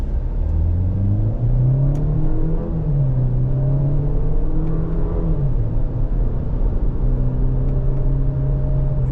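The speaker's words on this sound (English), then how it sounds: "We'll just try to shift with the paddles." A 2026 Chevrolet Equinox LT AWD accelerates through paddle-shifted gears, its engine note rising and dipping with each shift under a steady road rumble, heard from inside the cabin with no talking.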